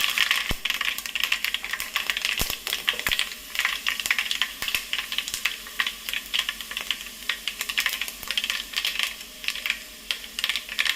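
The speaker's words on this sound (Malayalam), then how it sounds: "കടുക് പൊട്ടി വരുമ്പോഴേക്കും നമുക്ക് കുറച്ച് ഉലുവി ഇട്ട് കൊടുക്കാം" Rapid, irregular crackling and popping of mustard seeds bursting in hot oil, with sharp clicks scattered over a steady sizzle; no voices.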